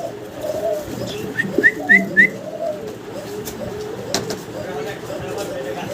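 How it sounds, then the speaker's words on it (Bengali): Racing pigeons at a seller's coop give a few soft coos and short whistly calls close by, beneath someone talking steadily. "এখানে একজন রেসার কবুতর আছে মিলি কালারের"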